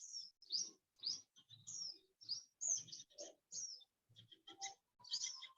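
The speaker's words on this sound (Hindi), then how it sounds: "पक्षियों की आवाज आ रही है।" Birds singing outdoors in a quiet, grassy setting, a series of clear repeated chirps and whistled phrases in bursts about half a second apart, moderately near and unaccompanied by talk.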